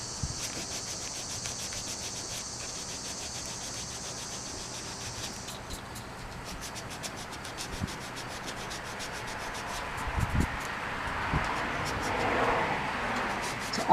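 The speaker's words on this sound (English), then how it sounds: "And any lip that goes around here, you have to sand that." Hand sanding of a repaired 1930s Disney Dopey doll from Snow White outdoors on a nice day, a soft steady rubbing scrape close by, with crickets chirping and faint outdoor noise around it.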